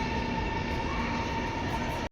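A high-speed bullet train at a railway station in China gives a steady, loud rumbling roar that holds evenly throughout, then cuts off abruptly at the end.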